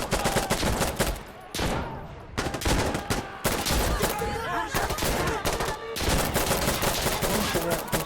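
Dense, loud bursts of rapid gunfire from the tactical shooter game Insurgency: Sandstorm crackle almost continuously, with a brief lull near the two-second mark before the firing resumes.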